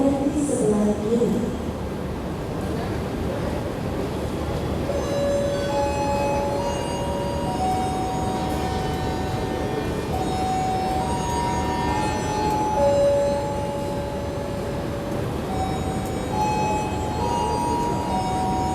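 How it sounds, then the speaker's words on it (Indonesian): The Dharma Wangsa passenger train departing a station in Indonesia, with steady rail rumble and squealing wheel tones while a station announcement plays over it. "Diberangkatkan kembali dari jalur 1 kereta api Dharma Wangsa dengan tujuan akhir stasiun Surabaya Pasar Turi"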